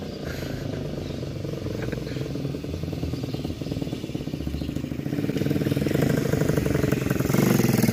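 A mini motorcycle engine idling close by, a continuous buzzing drone that grows slightly louder and rougher toward the end.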